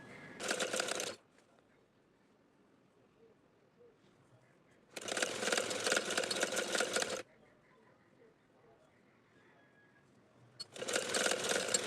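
A sewing machine stitches a fabric strip onto a baby girl's summer frock in three separate bursts of rapid, close stitching, with quiet pauses of several seconds in between.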